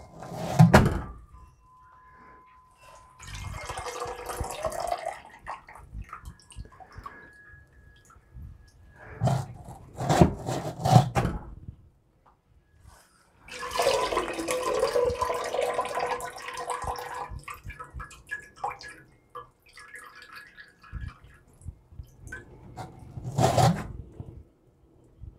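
Bags of banana and strawberry fruit being poured into a primary fermenter for wine, with bursts of wet sloshing, plastic rustling and thumps separated by quiet gaps, close by.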